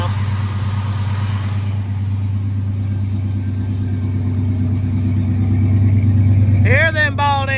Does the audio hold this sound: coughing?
no